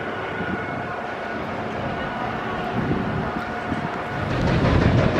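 The Icon roller coaster train at Blackpool Pleasure Beach rumbles along its track as a steady, loud roar that builds toward the end, with no talk.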